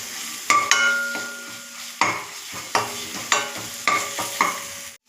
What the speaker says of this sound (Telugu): ఇందులో అల్లం వేద్దాం. కొంచెం ఫ్రై చేసుకోవాలి.